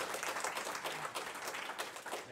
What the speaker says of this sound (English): Clap them in.